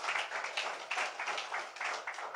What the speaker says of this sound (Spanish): Démosle un buen aplauso al Señor.